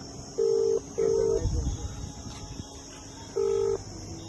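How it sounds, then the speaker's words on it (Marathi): Three steady electronic beeps from a phone being dialed ring out in quick succession, two close together and one after a pause, over low room noise. "नाही तिला फोन लावितो मी"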